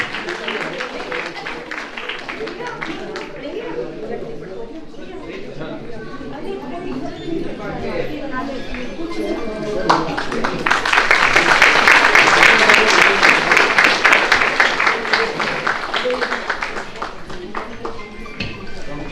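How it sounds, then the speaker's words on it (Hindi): Audience applause at a free cataract operation camp in Vatsalya Gram, Vrindavan, building from scattered claps into dense, loud clapping mid-clip, with voices chattering underneath. "तालियां बजाते रहिए"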